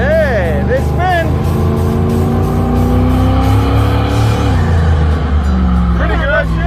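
Car engine revving hard as its tires spin on a homemade burnout machine, a loud, continuous roar with rising and falling pitch sweeps and a whining undertone, and people talking over it.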